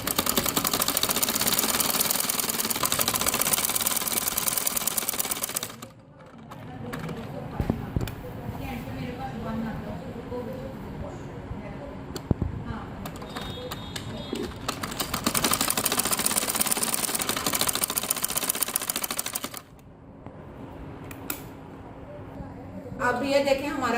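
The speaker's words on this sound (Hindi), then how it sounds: "अब मैं इसकी डबल सिलाई लगाने लगी हूँ, एक पैर से लगानी है।" A foot-operated sewing machine double-stitching the hem of a salwar bottom runs in two long, steady whirring stretches, with someone talking in the quieter gaps between.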